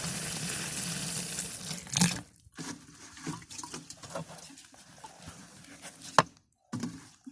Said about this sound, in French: On va mettre de l'eau.